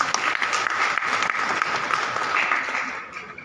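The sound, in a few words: audience applause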